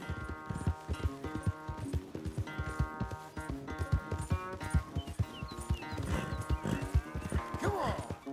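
Horse hooves pound in a fast, busy rhythm alongside a snorting horse and layered music in Red Dead Redemption 2, dense and loud throughout.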